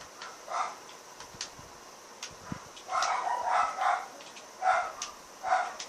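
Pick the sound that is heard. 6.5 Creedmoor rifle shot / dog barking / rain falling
dog barking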